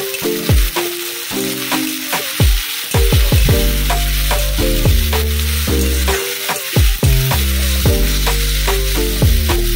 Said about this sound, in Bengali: তো এটা ভাজা হোক।